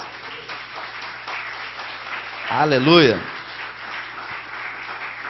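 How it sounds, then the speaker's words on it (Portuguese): A church congregation applauds steadily throughout, with a voice calling out loudly over the clapping midway. "Pode sentar e aplauda o nome do Senhor Jesus."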